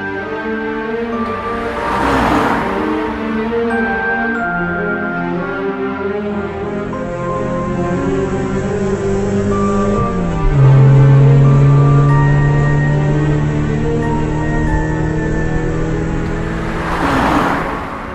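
A car drives steadily with a continuous engine hum that shifts pitch midway, with faint swooshes of passing traffic at the start and end; no talking.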